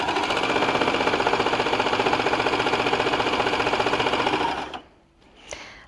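A baby lock Enlighten overlocker stitches through denim, its fast, even mechanical chatter running loud and close for almost five seconds before it abruptly stops, followed by a brief faint click.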